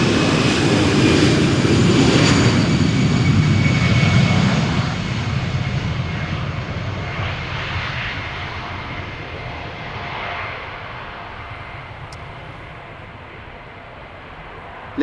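An Aer Lingus Airbus A320, thirteen years old, takes off from Amsterdam Schiphol for Dublin with a loud, close engine roar that swells early, then gradually fades as the jet climbs away.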